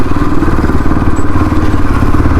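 Motorcycle ridden on the road, its engine droning loud and close with a steady rumble and wind buffeting throughout.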